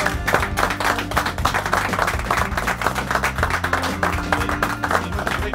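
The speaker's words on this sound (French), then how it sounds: "Ces applaudissements sont mérités" Applause from a group celebrating the switch to all-digital television in Paris, a rapid, fairly close patter of many hands clapping steadily over a musical background.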